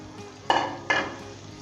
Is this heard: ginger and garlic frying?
yes